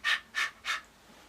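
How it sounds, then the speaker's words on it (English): A person pants three quick, breathy times to demonstrate the harsh Arabic ha sound. The short airy bursts are evenly spaced and close, followed by a faint trailing breath. "Because you're panting."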